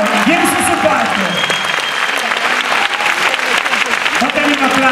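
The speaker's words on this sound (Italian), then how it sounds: "fatemi un applauso" A live audience at a singer's show in Locarno breaks into loud, dense applause that lasts the whole stretch, with a voice carrying over the clapping.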